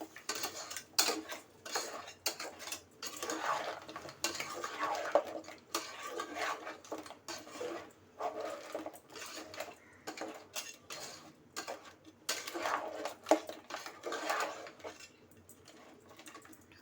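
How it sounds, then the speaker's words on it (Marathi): A spoon clatters and scrapes in a pan as garam masala and Kashmiri red chilli powder sauté in oil for Malvani-style crab curry. The metallic stirring taps are busy, irregular and fairly quiet throughout. "थोडासा गरम मसालाही घालते पुन्हा एकदा छान असं तेल सुटेपर्यंत परतून घेते"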